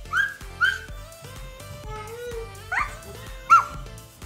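A voice imitates a dog, giving a string of short, yippy barks and whimpers close by at an uneven pace.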